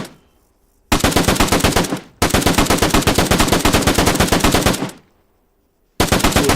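RPK machine gun firing 7.62 rounds in a modded video game, three long full-auto bursts of rapid, loud, closely spaced shots separated by short silences.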